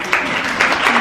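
A class of students applauds themselves in a classroom, a brief burst of dense clapping close by with a few louder claps rising out of it.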